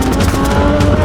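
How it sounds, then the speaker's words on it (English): A Lamborghini Reventon engine roars loudly and steadily as the gas pedal is pressed while the car fails to move, with a droning, strained tone that holds without a break. "Here, I press the gas pedal and it won't go."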